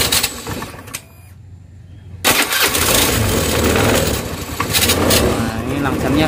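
A Honda Scoopy FI scooter with an unstable idle is cranked and fires up, its engine then settling into a steady buzzing idle close by, with a brief gap of quiet during the start.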